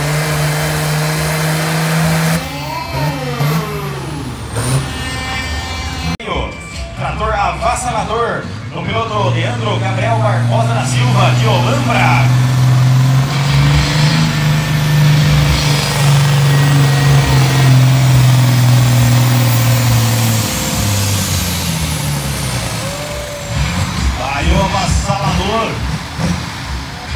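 A Pro Stock class pulling tractor at an agricultural-show tractor pull in Castro, Brazil, roars loudly and steadily for most of the run, its engine note rising and holding, with a commentator talking over it throughout.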